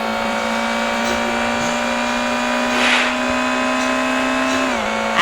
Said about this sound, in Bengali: এখন তাড়াতাড়ি ড্রাইভ করতে হবে। চলো ড্রাইভ করা যাক।